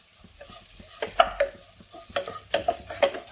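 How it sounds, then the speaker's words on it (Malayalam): Rice sautéed in a pot for broccoli biryani, heard as a quiet background sizzle with bursts of scraping and clinking from stirring, a couple of clusters of strokes near and fairly soft. "അരി ഒരു 2-3 മിനിറ്റ് വഴറ്റി കൊടുക്കാം."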